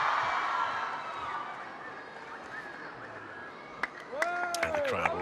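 The crowd at a table tennis match during the ITTF Mixed Team World Cup 2024 keeps up a diffuse murmur and scattered cheers and claps that swell near the end, beneath a commentator's voice.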